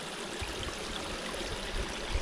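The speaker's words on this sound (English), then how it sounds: "Check this spring out here, coming right out the side of this." Water from a spring on the Appalachian Trail flows out of a hillside, making a steady close rushing and trickling sound with a few soft low bumps and no talking.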